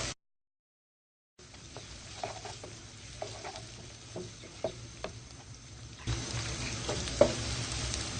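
Onions go into eggplant frying in a pan for baingan bharta, starting after a brief silence with a steady moderate sizzle and scattered stirring clicks, then growing louder and denser toward the end.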